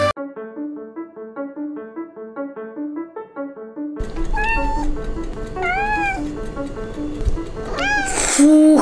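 Several kittens mew in short, rising-and-falling cries after a few seconds of tonal music, the meows fairly close and clear over a busy background, with one louder burst near the end.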